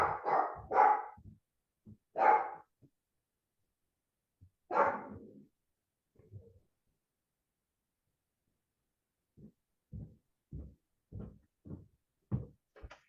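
A dog barks several times in short sharp bursts up close during the opening seconds, then falls quiet before a run of soft, low, evenly spaced knocks or thuds follows.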